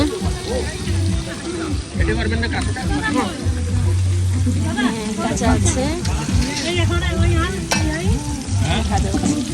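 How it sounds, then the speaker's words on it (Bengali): Hilsa fish sizzles in hot oil at an outdoor Bengali New Year food stall in Los Angeles, a steady frying hiss running under near and constant talk from people nearby. "ইলিশ মাছ ভাজা হচ্ছে এখানে।"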